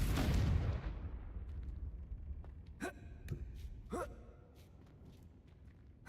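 Confringo spell blast in the video game Hogwarts Legacy: a loud explosive burst fades into a rumbling tail, then several short sharp magical impacts and zaps follow sporadically.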